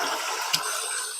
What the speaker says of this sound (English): I'm gonna pour it. I'm gonna drain them off.